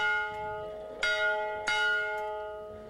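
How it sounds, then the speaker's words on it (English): Paul Pack's Husker Bell rings out near Lincoln, a large outdoor bell sounding two clear, ringing strikes whose long overtones hum and decay between them, with no voices. "Paul Pack's Husker Bell has practically been silenced"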